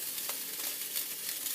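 Steady, close sizzling of sausage frying in a hot pan, a dense crackle with faint spits and pops and no talking.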